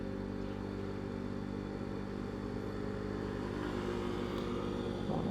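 A motorcycle engine straining up a hill, a steady low droning rumble that holds throughout, close and continuous with slight clatter.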